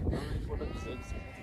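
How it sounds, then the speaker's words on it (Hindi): Sheep bleat on a grassy meadow at Doodhpathri in Kashmir, where goats and horses also graze. The bleats are steady and close, over constant outdoor noise and low background voices. "यहाँ पे बहुत सारी भेड़ बकरियां भी है"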